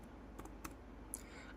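A few quiet keyboard clicks tap out sporadically, soft and close, in an otherwise hushed room.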